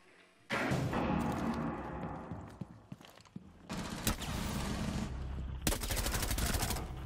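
Rainbow Six Siege gunplay: a loud, sustained burst of suppressed rifle fire with rapid thumping shots, a brief pause with a few isolated clicks and thuds, then two more long, dense bursts of fire close to the listener.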